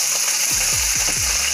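Vegetables hit a hot pan and burst into a loud, steady sizzle, with a few soft thumps and scrapes as they land and shift, close up and without voices.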